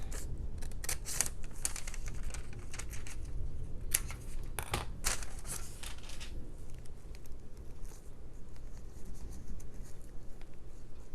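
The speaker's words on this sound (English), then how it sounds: "Let's cut a piece to go across there." Scissors snip through paper for an altered book page, a quick run of sharp, close cuts in the first half followed by quieter rustling and handling of the paper.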